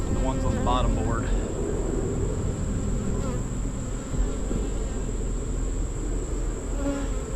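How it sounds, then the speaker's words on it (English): Honeybees buzz in a dense, continuous drone around beehive boxes and a bottom board, close and steady through the whole stretch, with a faint voice underneath in places. "Some bees still in the equipment."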